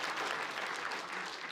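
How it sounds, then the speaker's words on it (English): A conference audience at a talk on control planes applauds a speaker taking the stage, a continuous, even wash of many hands clapping, soft and somewhat distant. "let's just give a bit of a round of applause for him too"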